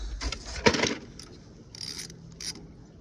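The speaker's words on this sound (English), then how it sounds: "what we're gonna do is we're gonna have to use our socket. Okay, so it's gonna loosen that." A socket wrench ratchets on a bolt of a discarded snowblower, a burst of quick metallic clicks up close followed by a few lighter scrapes and clinks.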